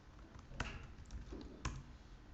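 Keys on a computer keyboard are tapped while a command is entered in a Debian terminal. A few sharp, close clicks are spaced irregularly over quiet room noise, with two stronger taps standing out.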